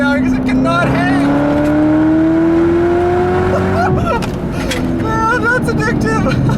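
A 2019 Chevrolet Corvette ZR1 with a manual gearbox roars loudly from inside the car, its engine note climbing steadily in pitch, dropping briefly at a shift, then pulling hard again.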